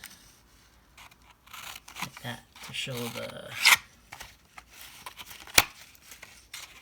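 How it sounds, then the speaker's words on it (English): Scissors cut a zigzag edge into paper, giving short rasping snips in an uneven series, close up, with someone talking briefly between cuts. "zigzag with scissors."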